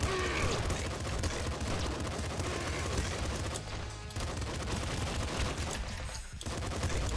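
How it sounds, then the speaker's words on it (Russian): Dense, continuous bursts of explosive gunfire crackle and boom nonstop, a loud barrage of rapid cannon-like blasts with brief dips in intensity. "С двумя взрывными пушками и короной взрывов"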